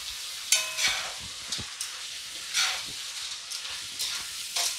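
Pasta being stirred as it fries in a cauldron, with soft scraping strokes and light clatter over a steady hiss of frying, moderately quiet and close.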